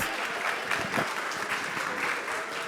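An audience applauds the competing teams at a summer startup program finale, a dense, steady burst of many hands clapping together with no break, filling the room at even loudness.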